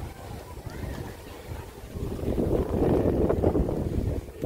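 Outdoor wind on a warm evening among Christmas light displays, a soft broadband rush buffeting the microphone and swelling louder toward the end.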